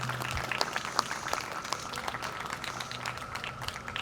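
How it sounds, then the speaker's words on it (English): Scattered, moderately faint clapping from an audience at a fifth-grade promotion ceremony, with sharp individual claps standing out over a low background hum. "Let's give them a round of applause."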